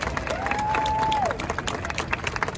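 A crowd applauds warmly after a musical performance at a drag rally, with dense steady clapping and a cheer or whistle rising over it, fading into scattered claps.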